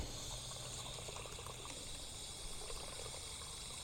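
Water trickling steadily into a camper's fresh water tank through a gravity fill dish on a Boler trailer, a faint continuous draining wash with no voices.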